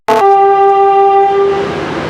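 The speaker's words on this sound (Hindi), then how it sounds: "11:28 पे सक्खर एक्सप्रेस रोड़ी जंक्शन से हो रही है रवाना दोस्तों" The Sukkur Express sounds a loud, sustained horn as it departs Rohri Junction in Pakistan. A sharp onset leads into a steady, close, blaring tone lasting nearly two seconds before it fades into rumbling.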